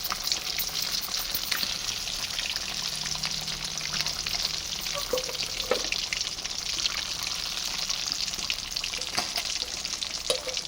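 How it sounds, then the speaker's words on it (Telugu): Fish deep frying in a pan of hot oil gives a steady, dense sizzle and crackle, with a few soft clicks of turning the pieces; no voices. "ఇలా డీప్ ఫ్రై వేసుకోవాలన్నమాట"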